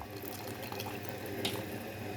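Water trickles and splashes steadily into a pot of cooking rice, a soft continuous pour heard close in a quiet kitchen with no talking.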